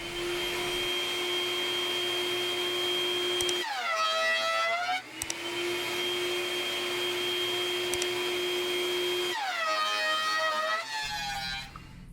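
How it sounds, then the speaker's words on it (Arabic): A thickness planer takes thin passes off a wooden board, and its motor whines steadily at a loud, even level. Twice the pitch dips under load as the board feeds through, then rises back to the idle whine. "بعد كده بدخلها في التخانه وابدا بقى اكل منها ملي بملي وعلى كذا مره"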